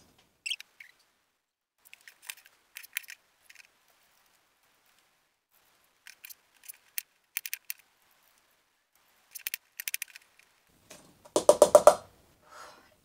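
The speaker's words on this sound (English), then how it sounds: "First step, obviously, is to peel and cut your apples." Apples being peeled and cut by hand for an apple pie: scattered soft scraping and slicing clicks in short bursts, ending in a louder close rustling scrape, with no talk.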